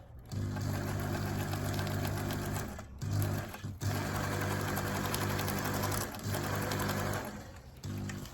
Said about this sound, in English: I tried to sew as many times, a lot of times, so that I can get it all